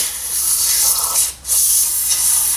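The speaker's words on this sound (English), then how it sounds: "I'm just going to spray a bit of carby cleaner down through here" Two loud, close bursts of carburetor cleaner aerosol spray hiss into a gummed-up Weber carburetor on a Renault R8 Gordini, with a brief pause between them.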